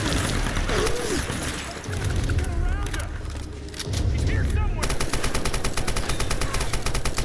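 Gunfire from a firefight in Tomb Raider (2013): loud bursts and rapid automatic shots, ending in a dense steady rattle of machine-gun fire, with a voice speaking over the action.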